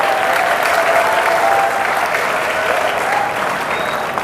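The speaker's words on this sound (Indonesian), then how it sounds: "Tepuk tangan, boleh itu kalian semua." An audience at an entrepreneurship talk breaks into loud, dense applause that holds steady and continuous throughout, with a faint crowd murmur underneath.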